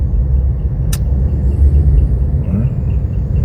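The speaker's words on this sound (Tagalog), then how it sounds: "Medyo ang traffic na." Heavy road traffic heard from inside a vehicle, a loud continuous low rumble of engines and tyres with a brief sharp hiss partway through, no talking.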